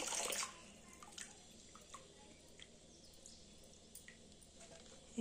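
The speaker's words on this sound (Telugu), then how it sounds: "ఇగో ఇట్లా నీళ్లు దులిపాలి ఫ్రెండ్స్" Water is shaken off a bunch of freshly washed amaranth greens, a brief splashy burst at the start followed by scattered faint drips in a quiet room.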